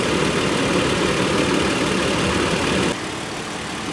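A car engine idles steadily with a low, even rumble that drops slightly in level near the end, while airflow through a transmission cooler is checked.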